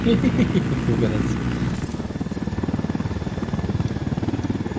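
A helicopter in the video game Ghost Recon Wildlands, flying and trailing smoke, gives a steady rhythmic rotor chop that grows clearer after a noisy start, with people talking over it.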